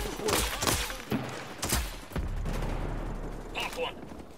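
Gunfire in Ghost Recon Breakpoint: several sharp, booming shots and bursts ring out in the first two seconds, followed by a sustained low rumble and fainter distant reports, with game voices and chatter mixed in.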